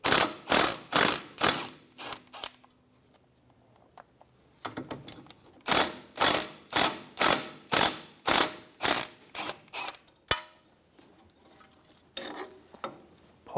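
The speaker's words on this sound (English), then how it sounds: "Remove the 2 10mm bolts for the brake line bracket." A ratchet removes the two 10mm bolts from a brake line bracket on a 2003-2007 Infiniti G35 during front wheel hub bearing work, giving bursts of loud, rapid, rhythmic clicking separated by brief pauses.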